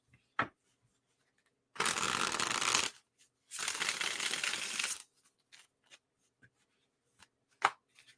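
A deck of tarot cards is shuffled in two loud, crackling riffle bursts of about a second each, separated by a short pause and followed by a few soft taps and card clicks close by.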